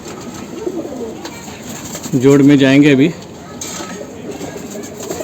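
A young, slender Pakistani bloodline pigeon in Mumbai gives one loud, close, rolling coo lasting about a second, with someone talking quietly before and after it.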